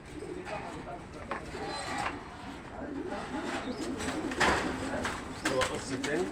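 Domestic pigeons in a loft coo repeatedly at close range, soft rolling calls layered over one another with steady background rustle and occasional louder bursts.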